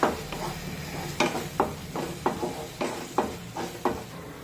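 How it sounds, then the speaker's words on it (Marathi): Spices sizzle in hot oil in a kadhai while a spoon scrapes the pan in a steady rhythm, roughly every half second, while cooking a cauliflower and potato curry. "आता हे मसाले तेलामध्ये व्यवस्थित परतून घेऊया"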